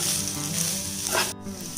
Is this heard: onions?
yes